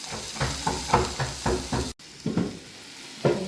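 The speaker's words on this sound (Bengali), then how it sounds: "কাঁচা লঙ্কা দিয়ে নাড়িয়ে নিচ্ছি।" Cauliflower, capsicum, carrot and green chili with butter, salt and pepper stirred in a hot sizzling pan, with a steady frying hiss and rhythmic scraping strokes of the spoon, close up.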